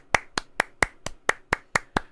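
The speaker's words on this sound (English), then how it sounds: "Give a round of applause for Taylor, everybody." Nine sharp claps in a steady, even rhythm, close and distinct, with short gaps between them rather than a crowd's dense applause.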